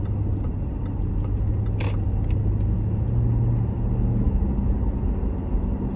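A car driving along with a steady, loud low engine and road rumble from inside the cabin, continuous throughout and without talk.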